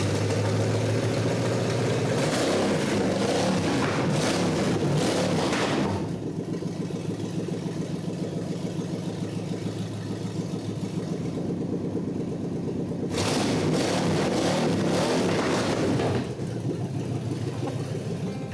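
A 1948 Packard engine runs in a custom garage while still below operating temperature, loud and close, dipping to a quieter idle in the middle before revving back up.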